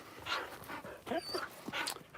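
Dogs panting in quick, breathy bursts mixed with high whimpers and short yips, close by and fairly loud.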